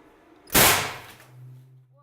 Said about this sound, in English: these should be some streamers shooting at you